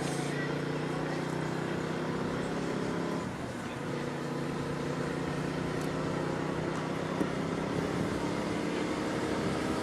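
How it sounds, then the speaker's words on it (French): A race camera motorcycle runs during the GP de Plouay-Bretagne cycling race, its engine a steady, continuous drone throughout with only a brief dip partway through, heard close and fairly loud with no speech over it. "j'entends la moto"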